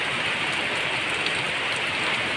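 Heavy rain and strong wind from Typhoon Tino lash a farm, a dense, steady roar of downpour and gusts with no letup, loud and close.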